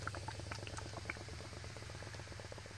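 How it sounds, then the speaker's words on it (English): Cola fizzes in a pot filled with coins after being poured in, giving a close, steady crackle of popping bubbles with soft liquid patter. "we're going to pour some Coke into"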